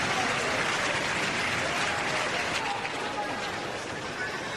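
A tennis crowd at the Monte Carlo Country Club bursts into dense, sustained applause, a steady roar of many hands clapping that fills the whole stretch at close, even loudness.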